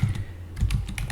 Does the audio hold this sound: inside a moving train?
no